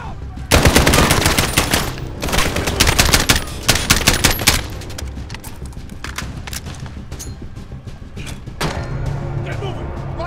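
A machine gun nest in Call of Duty: Modern Warfare hammers out loud, close bursts of rapid fire amid battle noise, with shouted voices heard under the shooting.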